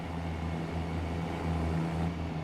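A white farm truck in Farming Simulator 25 hums steadily at low revs with a droning engine tone, constant and fairly close, with road noise and no talking.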